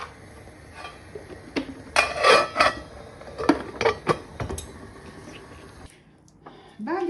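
A metal lid clatters onto a pot of rice on the stove, with several sharp clinks and scrapes of cookware close by, and a voice talks in between.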